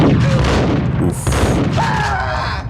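A shotgun blast from the 2001 PlayStation 2 game Max Payne, loud and heavy, booming amid dense game action with a continuous roar of gunfire and effects and no speech.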